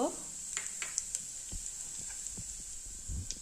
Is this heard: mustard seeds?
yes